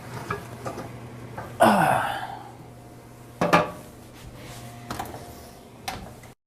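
A Nordic Ware Pro Cast Dutch oven lid is lifted off a paella inside, with a loud metallic scrape and clank followed by a second knock and lighter handling clatter.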